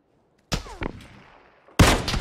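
Sharp gunshots in a video game: one loud crack with a ringing tail, a quieter follow-up shot, then another loud, close blast after a short pause.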